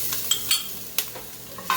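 Garlic and ginger sizzle in a hot pan while being stirred, a soft frying hiss broken by several sharp clicks and scrapes of the utensil against the pan at uneven intervals.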